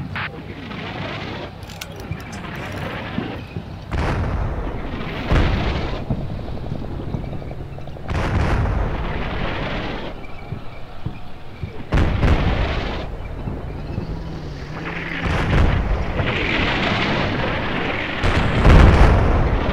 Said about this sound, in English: Background there, we see my artillery leveling those buildings.